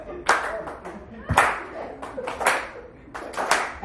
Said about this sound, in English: Can I get a slow clap?